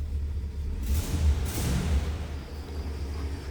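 A 1967 Cadillac Fleetwood Brougham engine gets a quick rev, a low rumbling swell with a couple of brief throttle blips over a steady, fairly quiet idle.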